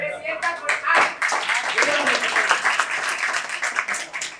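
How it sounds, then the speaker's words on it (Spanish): Burst of clapping and applause from a small group in a podcast setting, with hand claps irregular and mixed with voices and laughter, loud and close. "¡Aplauso!"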